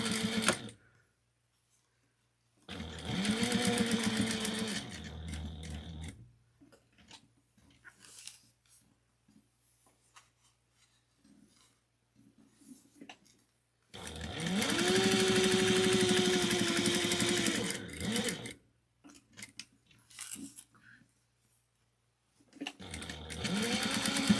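Sewing machine stitching a quarter-inch seam on a fabric ID wristlet, two loud sustained runs of rapid stitching separated by quiet pauses, with a third burst starting at the end.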